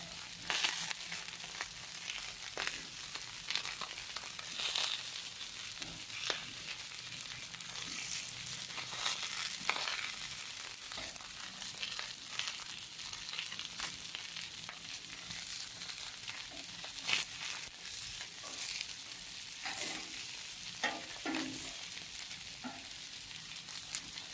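Fish fries in a pan with a steady, even sizzle that runs throughout, broken by occasional soft scrapes and taps as the pieces are flipped, close and continuous with no talking.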